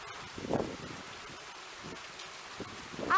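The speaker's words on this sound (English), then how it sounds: "Look at this rain." Rain in the racing game Forza Horizon 3 hisses steadily at moderate level, with a few soft thumps and a brief rise in noise near the end, and no voices.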